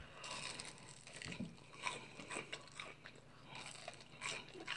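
Close crunchy bites and chewing on a crispy waffle fry from a grilled chicken sub meal, several crisp crackles spread across the moment, with no talking.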